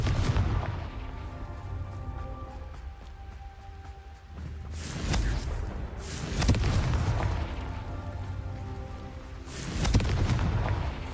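Confringo spell explosions in Hogwarts Legacy on PS5: several heavy booming blasts in a row, each followed by rumbling decay, loud and close, with no speech.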